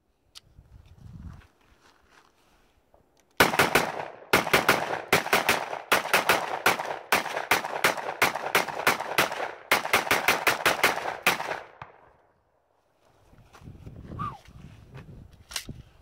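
A Glock 17-type pistol mounted in a CAA Micro Roni chassis firing a rapid string of about two dozen sharp, loud outdoor shots in quick, slightly uneven rhythm, with faint rustling before and after.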